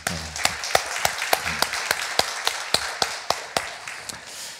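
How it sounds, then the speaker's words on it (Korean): Church congregation clapping in a steady rhythmic beat, sharp evenly spaced claps about three per second over a soft background of scattered hands, fairly loud and close. "우리 하나님께 감사의 박수 한번 드릴까요?"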